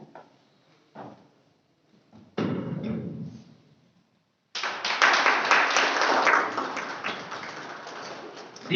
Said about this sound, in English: Please give a big round of applause for our senior teachers.